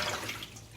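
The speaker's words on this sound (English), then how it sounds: "you can dump out your water." Water dumped out of a bowl while preparing toasted pumpkin seeds in a home kitchen: a brief, soft splashing pour that fades within a second.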